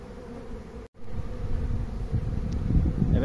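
A swarm of honey bees gathered on the ground, giving a steady close buzzing hum that thickens toward the end, with a brief dropout near the start and some wind noise.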